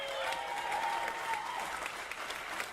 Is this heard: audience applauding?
yes